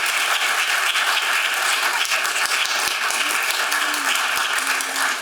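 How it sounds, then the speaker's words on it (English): Sustained audience applause after a talk on coastal resilience, dense and steady for the whole stretch, with a few louder individual claps popping out near the end. "One last round of applause for our speakers."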